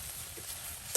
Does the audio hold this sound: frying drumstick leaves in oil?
yes